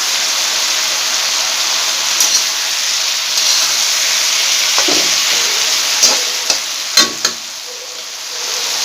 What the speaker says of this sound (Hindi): टमाटो पकईदेवा